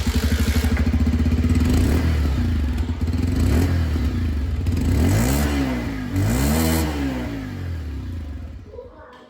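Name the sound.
Bajaj Pulsar 125 Neon motorcycle exhaust sound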